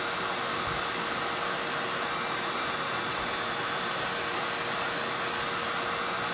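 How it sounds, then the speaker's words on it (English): A heat gun blows hot air over a craft mat while making journal charms, a steady, loud broadband roar of rushing air that holds unbroken for the whole stretch with no talking. "they're not very craft friendly when you're using a heat gun"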